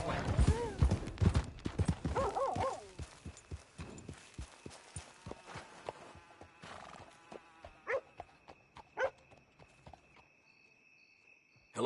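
Horse hooves clip-clop in Red Dead Redemption 2, irregular sharp hoof strikes near the listener, busy at first under voices and a snorting horse, then thinning to scattered steps against a quiet background with a faint steady insect tone.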